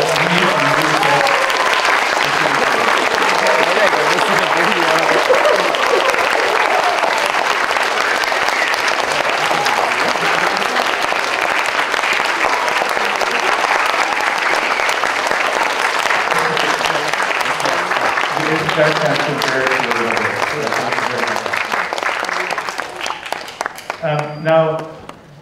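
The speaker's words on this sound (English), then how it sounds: "let's give Commissioner Cassandra a standing ovation for her amazing leadership" Standing ovation at a Hong Kong scout group's 30th anniversary year-end ceremony: a large audience's sustained, loud, dense applause lasting over twenty seconds, with cheering voices mixed in, before tapering off as a voice speaks at the end.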